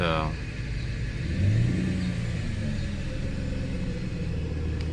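A Mercedes SL600 engine idles on a cold start with a steady, close rumble and a slight swell partway through, while a person talks over it.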